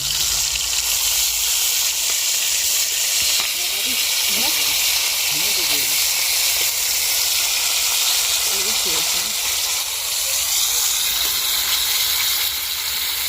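Oil heats in a pan over a clay stove outdoors, giving a steady, loud broadband hiss and sizzle throughout, with faint voices briefly heard beneath it.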